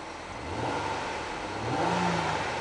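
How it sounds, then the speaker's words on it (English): A 2010 Nissan Maxima SV's 3.5 liter V6 revs twice from idle, each rise swelling and falling back, moderately loud and close with no talking. "The car is running right now. I'm gonna rev it,"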